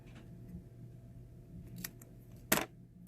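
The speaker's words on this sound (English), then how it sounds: "it's kind of hard to cut once you get this far" Scissors cut paper for a small dollhouse baby swing in a quiet room, giving a couple of soft snips and then one sharp, louder snip near the end.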